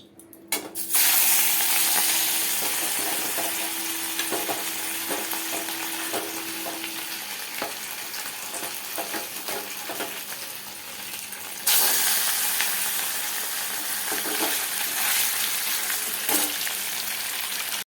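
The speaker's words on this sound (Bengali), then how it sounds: "মাছের ডিমগুলো ভাজবো" Fish roe deep frying in a pan of hot oil gives a loud, dense, continuous sizzle heard up close, with faint clicks and a brief break partway through, and no voices.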